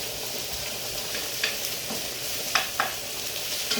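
Onions fry in grease from hamburger patties in a shaken pan, making a close, continuous sizzle with a few sharp scrapes and clatters as the pan moves.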